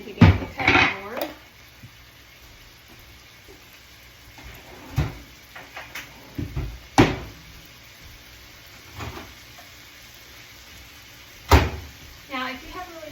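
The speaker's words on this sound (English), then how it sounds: "I'll go ahead and grab my handy dandy cutting board." Kitchen sounds during home meal prep: a cutting board is grabbed and set down with several sharp knocks and clatters of dishes and utensils, spaced irregularly, while something browns on the stove.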